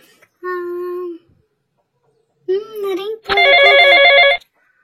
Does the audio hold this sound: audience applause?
no